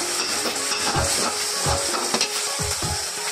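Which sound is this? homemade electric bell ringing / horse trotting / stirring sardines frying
stirring sardines frying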